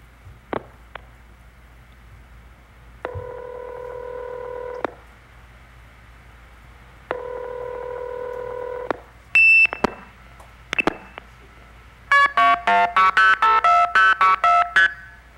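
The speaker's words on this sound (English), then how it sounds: "And then with your little MF box, or twangers as they were called" Telephone signaling tones from a phone phreaking MF box: two long steady tones separated by a pause, a couple of short blips, then a rapid burst of multi-frequency dialing beeps.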